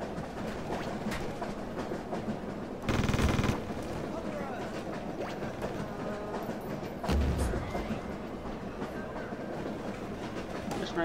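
Rapid bursts of video-game machine gun fire crackle in short volleys, the loudest around three seconds and again near seven, over a steady background of game sound.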